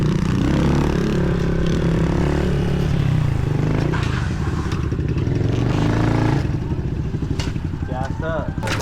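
A pit bike's small engine runs loud and close throughout the ride, a rough buzzing drone with rattles and clatter, shifting in pitch as it changes speed; a voice speaks over it.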